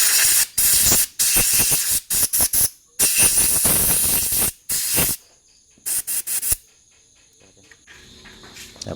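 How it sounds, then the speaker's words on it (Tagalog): Close hissing bursts of cleaner sprayed onto a Toyota Wigo engine part, a rapid string of short and longer sprays with brief gaps, followed by quieter rustling. "Ayan na, spray na naman ulit."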